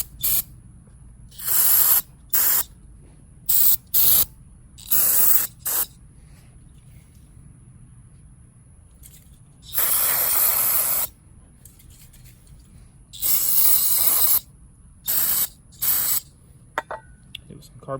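Carb cleaner sprayed onto the carburetor of an Echo SRM-2100 string trimmer in a series of sharp aerosol hisses, some short bursts and a few longer blasts, separated by quiet gaps.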